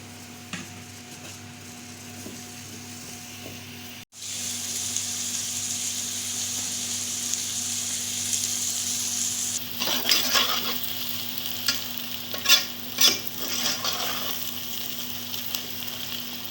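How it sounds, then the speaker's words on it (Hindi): Onions drop into hot oil for aloo gosht with a sudden loud sizzle that holds steady, then a spoon stirs and scrapes the pan in quick clattering strokes over the frying hiss. The sound is close and there is no talking. "जब ऑयल गर्म हो जाएगा तो मैं ये प्याज डाल रही हूँ और इसको गोल्डन कर लूँगी"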